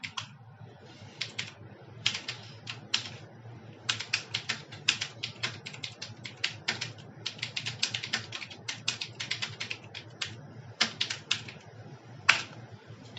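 Computer keyboard typing text in Adobe PageMaker, a quiet close run of light clicking keystrokes in irregular bursts with short pauses between, no voices.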